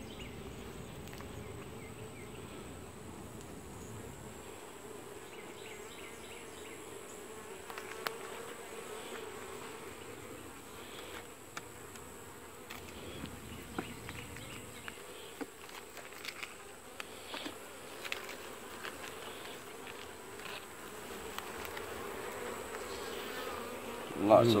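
Honey bees buzz steadily at a second-generation Cordovan hive during a nectar dearth, a low continuous hum with faint scattered clicks throughout, no talk.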